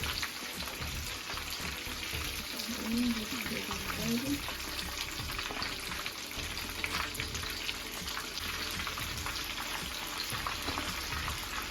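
Crunchy meatballs frying in hot oil make a steady, dense sizzle throughout, with faint crackles and a brief soft voice in the background.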